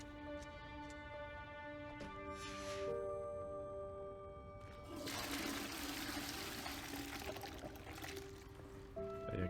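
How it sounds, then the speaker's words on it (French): Water pours and trickles into a toilet cistern in the Hogwarts Legacy video game, a steady running flow with a louder surge midway, set against soft tonal game music and no talk. "Il y a carrément la flotte dans la chasse d'eau."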